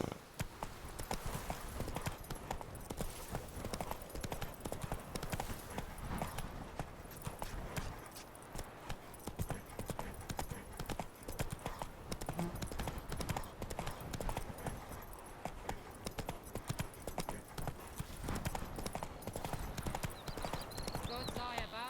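Geralt's horse Roach trotting in The Witcher game, rapid rhythmic hoofbeats running steadily throughout, close and fairly loud, with a voice speaking over the hooves.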